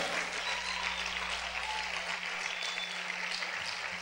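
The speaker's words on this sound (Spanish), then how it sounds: "A ver, aplaude fuerte al Señor." A church congregation claps loudly and continuously in steady, dense applause, a faint hum running underneath and no voices on top.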